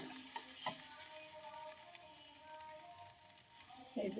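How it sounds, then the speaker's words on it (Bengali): Buckwheat khichuri stirred in a pan over medium heat, a soft steady sizzle with scraping and light knocks of the spoon, fairly quiet and close. "মিডিয়াম আঁচে নাড়াচাড়া করবো আর ঢাকা দিয়ে দিয়ে প্রায় 10 মিনিট আমি রান্না করবো"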